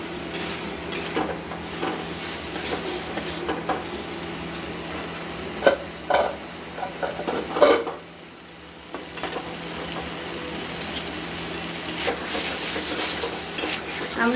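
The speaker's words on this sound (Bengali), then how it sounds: "আলু বেগুনের সাথে মশলাটা 2-3 মিনিট কষে নেব" Potato and eggplant fry with spices in a pan, a steady close sizzle with intermittent scraping stirs and metal clinks against the pan, briefly quieting midway before resuming, with no talk.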